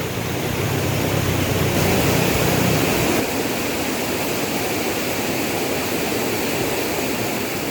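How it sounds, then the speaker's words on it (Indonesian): A loud, constant roar of a fast-flowing, clear, rocky river at Lawe Sikap in Southeast Aceh, Indonesia, fills the whole stretch, dense and unbroken, with no voices over it. "sungai yang deras dengan aliran air yang deras, yang jernih dan berbatuan"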